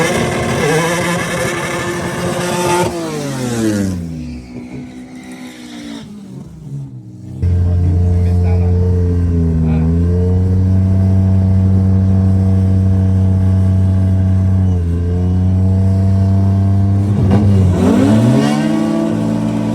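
Honda front-wheel-drive drag cars with nitrous J-series and K-series engines rev loudly at a drag strip, pitch rising and falling through several throttle blips, then holding a long steady high drone before another rev.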